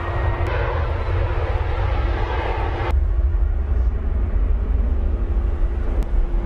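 A jet airliner taking off from a Manchester runway with no parallel taxiway, its engines giving a steady, loud, broadband roar throughout, with a couple of brief clicks and no talk.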